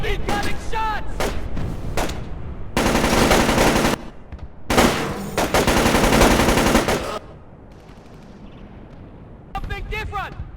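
Bursts of automatic gunfire and heavy shooting in the Xbox stealth game Tom Clancy's Splinter Cell Chaos Theory, loud sustained volleys broken by short gaps, with voices shouting over the battle.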